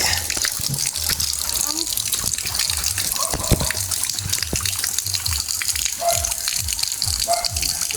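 Water gushes and splashes steadily, a loud continuous rushing flow close by with no pauses.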